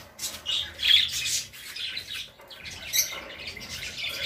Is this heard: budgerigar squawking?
yes